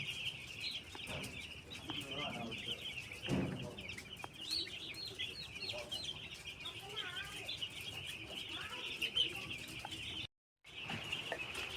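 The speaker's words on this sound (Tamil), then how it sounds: "கோழிகளில் எவ்வளோ கூட்டமாக இருக்குதுன்னு பாருங்கள்." Crowded chickens in a poultry shed keep up a constant clucking and chirping throughout, close and busy, over a steady high buzz of background noise, with a brief dropout near the end.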